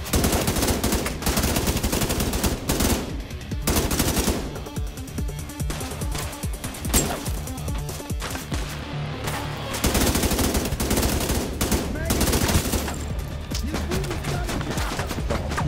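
Gunfire in The Division 2: dense automatic bursts and rapid single shots crackle almost continuously, loud and close, with brief lulls between volleys and no talk.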